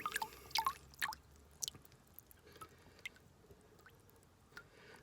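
Water drips and trickles from a freshly watered potted plant as it drains during winter watering, with scattered soft, close drips and squishy wet sounds against a quiet background.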